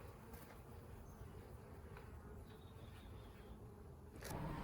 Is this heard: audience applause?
no